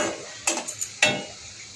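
Methi mathri frying in oil over low flame, with a soft bubbling hiss broken by a few sharp clinks and scrapes of a utensil against the pan.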